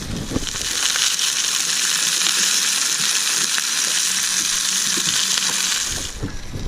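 Beans cook in a pan outdoors on a tropical island, with a loud, steady frying sizzle that holds close and constant before fading at the end. A few faint scrapes of stirring are mixed in.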